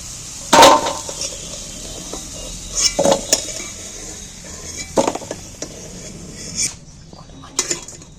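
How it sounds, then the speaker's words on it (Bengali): Clinks and scrapes of a utensil against a pan as soft-fried potatoes are lifted out into a container, in scattered bursts with quiet gaps. "এইবার আমি একটা জায়গার মধ্যে আলুগুলো তুলে নিচ্ছি"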